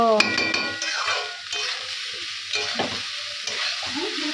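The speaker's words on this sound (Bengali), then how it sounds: "অলরেডি আমার ভাত ভাজা কমপ্লিট" Rice being stir-fried in a pan sizzles steadily while a utensil scrapes and stirs in repeated strokes, close by with no talk.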